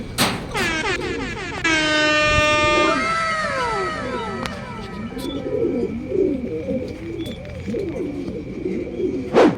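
Racing pigeons arrive at the home loft after a 134 km training toss from Plaridel, Quezon, with cooing and fluttering nearby, a loud whistle or horn blast near the start and light crowd chatter in the background.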